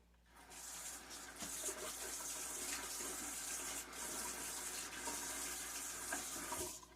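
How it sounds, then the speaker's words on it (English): Water runs from a kitchen sink tap as dishes and utensils are rinsed, a continuous faint splashing rush with small shifts as items pass under the stream. "After you dump something out, just rinse it out one more time."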